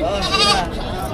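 A goat bleats loudly and wavering, close by, with a strained harmonic cry lasting about a second, at a livestock auction in Padre Garcia, Batangas.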